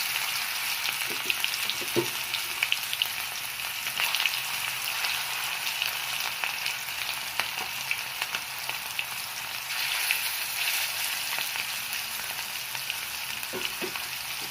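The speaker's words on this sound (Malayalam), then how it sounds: "നമ്മുടെ എണ്ണ നന്നായിട്ട് ചൂടായിട്ട് വന്നിട്ടുണ്ട് നമുക്ക് ഈ കൊഞ്ചിനെ കൊടുക്കാം" Prawns frying in well-heated oil make a dense, continuous sizzle with faint crackles and pops, steady and close, and no talking.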